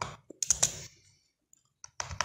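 Keys clack on a computer keyboard in two quick clusters of close, crisp keystrokes separated by a short silent pause.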